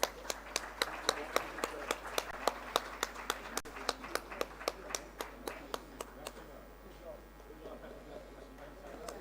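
A crowd claps in a steady, rhythmic beat for several seconds, the claps gradually fading out against a quiet background hum.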